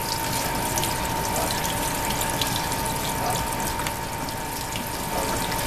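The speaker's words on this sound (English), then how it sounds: "And then you wanna rinse them with cold water." Cold tap water runs steadily into a sink rinsing ramen noodles, a continuous close splashing rush with faint clinks, no voices.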